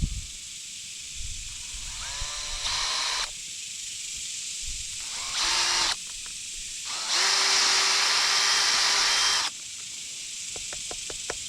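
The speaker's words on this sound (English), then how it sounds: "I'm going to take my drill" A power drill boring through the smooth end of a homemade survival fishing kit handle for fishing line, three separate whirring bursts of rising pitch, the last one longest, with quiet handling noises between.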